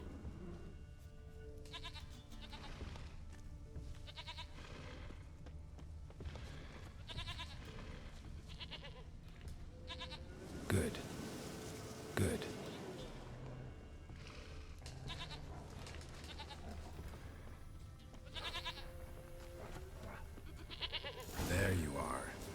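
A goat in The Witcher 3 bleats in short repeated cries among game ambience and footsteps, with a voice talking at times and a few louder thumps.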